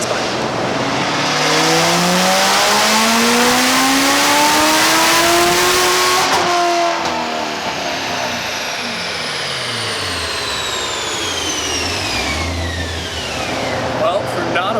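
A Corvette C7 Z06 with an RPM Stage 4 package revs on a dyno pull, engine pitch climbing loud and close, then cut off early, with the note falling away and people talking over it.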